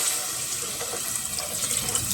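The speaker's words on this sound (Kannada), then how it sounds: "ನೀರು ಹಾಕ್ಬಿಡೋಣ." Water streams steadily into a cooking pot while a vegetable pulao is being made, a continuous close, moderately loud rushing and splashing with no talking.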